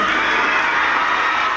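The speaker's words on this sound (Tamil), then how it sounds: "அவங்களுக்கு விண்ணுக்கு வரைக்கும் ஒரு கைத்தட்டல் வேணும் அந்த ஃபேமிலிக்காக" At a school event, a crowd of children and audience members cheers and shouts continuously, loud and dense, with applause blended into the roar.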